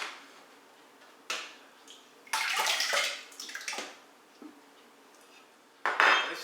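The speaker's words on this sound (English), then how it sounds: "So now I'm going to pour this into a big stock pot." Broth for chicken corn chowder being poured into a big stock pot, with splashing liquid bursts and clinks of metal cookware, close and moderately loud, in several uneven pulses.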